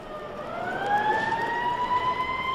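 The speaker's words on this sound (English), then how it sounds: "Look, Peter, those police cars are headed towards" Police car sirens wail steadily and loudly in an audio drama, a continuous rising tone that holds through the whole moment without any voices.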